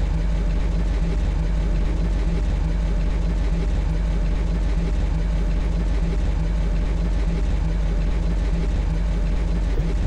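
Loud, constant low engine rumble from a vehicle in the STALKER video game, an unbroken heavy drone with a faint idling pulse that stays close and unchanged throughout.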